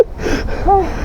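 Heavy, breathy panting from a rider out of breath near the top of a climb in Lucban, Quezon, a few ragged gasps close to the mic.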